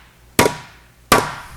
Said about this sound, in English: let's hit that front nose a little bit more right in here. We'll switch to this end of the hammer.